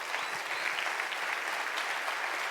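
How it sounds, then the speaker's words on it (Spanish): Brief, even burst of applause from a church congregation during a Spanish-language sermon, moderately distant and continuous with no voices standing out. "Denle el aplauso al Señor"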